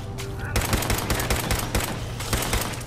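Automatic gunfire in the video game Fallout 4: rapid, loud bursts of shots fire almost continuously, starting after a brief lead-in and pounding with only short gaps.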